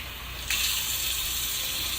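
Water pours steadily from about half a second in, a continuous rushing splash into a pressure cooker, fairly close and alone.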